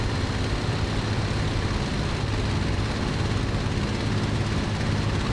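Steady, droning engine roar of a Bf 109 G-6 fighter in Microsoft Flight Simulator 2020, flying over Duxford, a loud, unbroken low hum with no voices.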